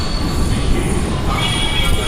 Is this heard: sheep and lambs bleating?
no